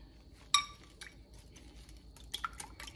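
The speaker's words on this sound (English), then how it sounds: "So now I'm going to beat these eggs up." Eggs beaten in a mixing bowl for a meatloaf made with ground beef. A sharp utensil clink rings against the bowl near the start, then a few lighter scattered taps and clicks follow, fairly close.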